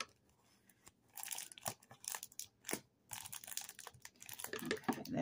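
A package is opened during a crochet-supply unboxing, with close, quiet crinkling, tearing and crunching noises in irregular bursts.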